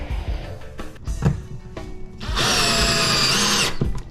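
A power drill drives stainless steel screws, first in short stuttering bursts and then in a loud sustained whirring run of about a second and a half, close by and with no talk over it.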